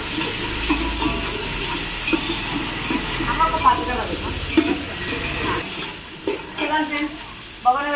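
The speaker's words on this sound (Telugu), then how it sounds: "బొగన పెట్టుకుని నూనె పోసుకొని జీలకర్రలు వేసుకున్నాం, ఉల్లిగడ్డలు వేసుకున్నాం, కలుపుకుంటున్నాం" Onions and cumin seeds sizzle in hot oil in a home kitchen pan while being stirred, with steady frying hiss and scraping spoon clicks, brief knocks toward the end, and a voice talking over the cooking.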